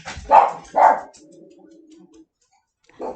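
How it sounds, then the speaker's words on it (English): Dachshund barking indoors, two sharp, close barks in quick succession, then a low faint sound, a pause and a third bark at the end, with no talk over them. "There is no reason anybody should be barking."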